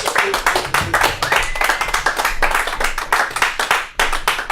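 Audience at a live comedy show claps in a loud, dense burst of many hands, sharp overlapping claps filling the room steadily without pause.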